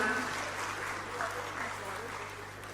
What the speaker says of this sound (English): that applause should be better